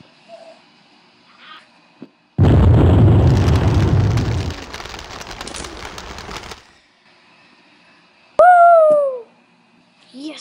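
Grenade explosion in a Sonic video game: a sudden loud broadband blast that rumbles and crackles for about four seconds before cutting off, followed by a brief descending synthetic game sound.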